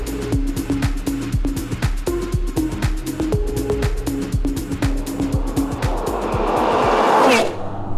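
A McLaren 720S Spider's engine drones loudly and steadily up close, with repeated rhythmic gear-change pulses, ending in a rising rush of wind and road noise as the car accelerates.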